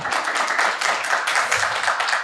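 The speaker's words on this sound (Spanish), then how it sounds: "¡Fuerte aplauso para Gonzalo Fanjul!" Audience applause at a conference talk on border technology: a dense, steady wash of many hands clapping, fairly loud and sustained through the whole moment without any speech.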